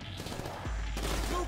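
Dual pistols firing in GTA 5 Online as a quick burst of loud, overlapping shots, followed by a heavy, booming low rumble that swells and holds.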